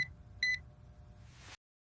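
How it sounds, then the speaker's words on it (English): A short electronic alarm sounds as two crisp high-pitched beeps, a faint one followed by a louder one, against a low background hum in a quiet room. "I set the alarm."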